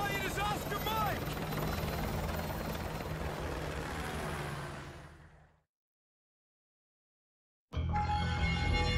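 A military helicopter in Call of Duty: Modern Warfare 2 drones with a loud, steady rotor thrum that fades out into a few seconds of silence, then abruptly returns.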